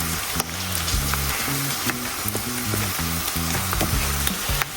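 An egg omelet with funnel chanterelle mushrooms frying in a pan, a loud dense sizzle that stays constant throughout with a low background hum and no talk.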